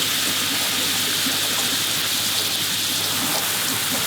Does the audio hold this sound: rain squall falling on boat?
yes